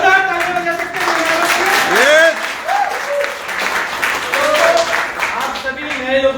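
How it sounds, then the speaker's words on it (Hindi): A meeting audience claps loudly and continuously for the guests, a sustained wash of applause with a person speaking over it. "जोरदार ताली बजा सकते हैं।"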